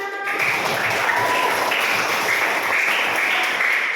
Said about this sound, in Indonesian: Tepuk tangan di mana?